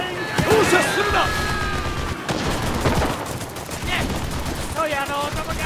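Infantry gunfire in the shooter Enlisted on Gavutu South: dense overlapping rifle and machine-gun bursts with crashes, loud and close, mixed with speech and radio chatter.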